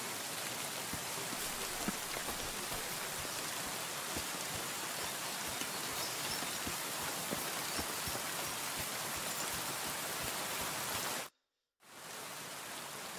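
Steady, heavy rain in Kingdom Come: Deliverance II hisses evenly throughout, with scattered drop patters, cutting out briefly near the end before resuming.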